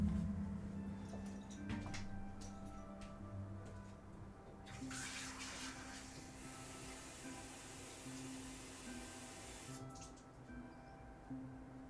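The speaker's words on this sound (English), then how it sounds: "I'm gonna grab some water." Water runs from a tap into a glass in a quiet room, a steady soft splashing stream that lasts several seconds and then fades.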